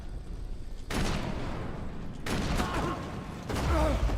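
Grenade explosions and gunfire in the shooter game Call of Duty on the Rebirth map: several loud broadband blasts in quick succession, each decaying into a rumbling tail, close and dense with battle noise.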